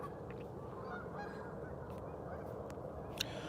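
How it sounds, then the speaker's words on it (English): Geese honk in a few scattered, faint calls near icy cold waters ahead of a snowstorm, heard over a steady rumble of wind and ambient noise. "You hear these geese backing me up with sound confirmation?"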